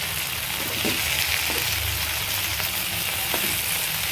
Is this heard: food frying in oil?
yes